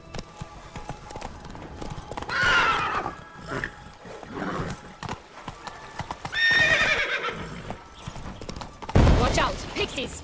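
Hooves clip-clop at a gallop in The Witcher 3 while the horse lets out two distinct neighs, with a voice speaking between them and a heavy thump near the end.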